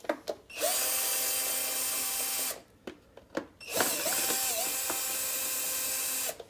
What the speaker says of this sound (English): we take a screw gun